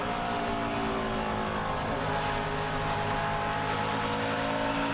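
A race truck engine at full throttle during practice laps at a short oval, a steady loud droning roar with barely any lift, sustained close and continuous throughout.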